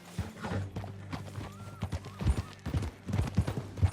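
Horse hooves clip-clop as riders set off in Red Dead Redemption 2, uneven beats of several hooves with a short whinny and soft creaks, moderately close and quiet.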